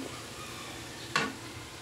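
Egg stirred into frying ampalaya (bitter gourd) in a pan: a quiet, steady sizzle broken by one sharp scrape of a utensil against the pan, close and alone without talking.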